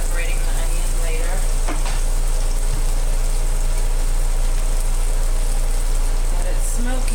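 Onions, vegetables and garlic with parsley sizzle in olive oil for fajitas, a steady dense hiss running throughout with a faint engine-like hum beneath and a smoky kitchen setting.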